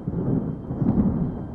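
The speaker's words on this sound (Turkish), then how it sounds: "Uzaklarda gök gürledi." A low, muffled rumble of distant thunder rolls briefly and steadily, with no voices.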